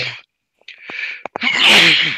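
A single sharp, loud sneeze, preceded by a brief breathy intake and a few quick catches of breath.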